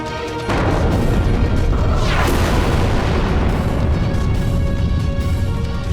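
A volcano erupts as a dramatic sound effect in a mythological Hindi TV series, a sudden loud boom at the start giving way to a sustained, heavy roaring rumble with crashing debris that continues throughout.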